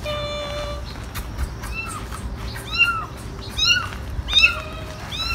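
Cats meowing repeatedly in a home, several rising and falling cries close by, growing louder and more insistent toward the end over steady background noise.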